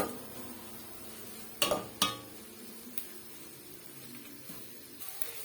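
Onion, tomato and masala sautéed in a pan for egg curry, a faint low sizzle broken by a couple of sharp spoon knocks against the pan and lighter scrapes later, no talk.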